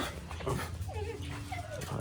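A dog whimpering nearby, giving thin, wavering whines and soft panting over a low background hum, with no talking.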